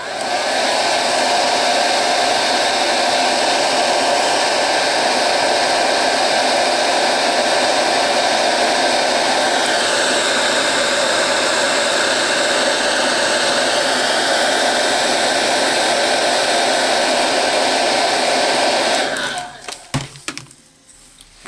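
Hair dryer blowing steadily on a freshly painted basecoat, a loud continuous whooshing roar up close that holds for about twenty seconds before cutting off with a few clatters.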